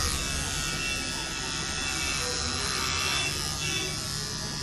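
An electric hair trimmer buzzing steadily and close while cutting hair, a continuous high whine with a faint low rumble underneath.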